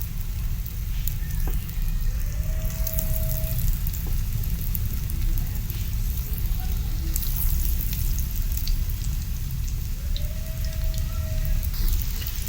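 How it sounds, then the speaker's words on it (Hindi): Potato nuggets deep fry in oil in a pan over low to medium flame, giving a steady, even bubbling hiss like light rain that goes on without pause, with a few faint clinks and no talking. "अब इनको हमने लो टू मीडियम फ्लेम पे फ्राई करना है"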